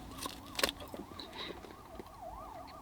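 A police siren wails past with a steady rising-and-falling warble, moderately loud, passing through a street scene with a brief clatter near the start.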